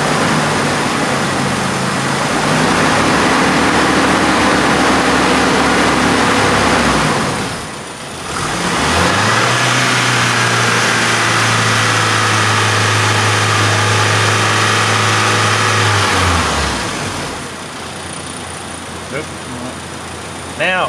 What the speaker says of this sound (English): I'm going to rev the engine up just a little bit.